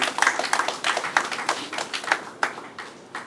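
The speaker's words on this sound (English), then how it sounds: "I think a round of applause for the CMD and his team." Audience clapping for the CMD and his team at a World Mental Health Day campaign event at a hospital in Port Harcourt, a modest scattered round of individual claps that thins out and fades.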